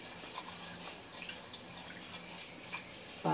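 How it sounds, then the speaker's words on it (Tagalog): Water poured into a pan of pork on the stove gives a steady, hissing splash with faint trickling, ending with a sharp louder burst as it meets the hot pan. "Maglalagay ako ng konting tubig."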